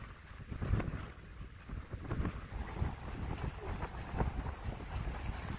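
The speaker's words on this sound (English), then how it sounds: "kind of gusty. Yeah. This is a willy wah." Gusty williwaw wind blowing across a Lagoon 380 catamaran sailboat anchored off Greece, a steady rushing roar with buffeting low-end gusts and wind noise on the microphone, continuous and fairly loud with no talking.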